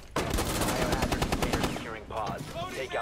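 Rapid automatic gunfire from a shooter video game, a dense continuous burst of loud shots that ends around two seconds, followed by a swooping tonal sound effect.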